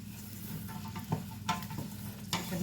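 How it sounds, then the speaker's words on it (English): Onions and carrots stirred in a soup pot for carrot and cashew soup, the spoon scraping and knocking in a few distinct strokes over a steady low sizzle, close and fairly quiet. "Gonna keep stirring this around"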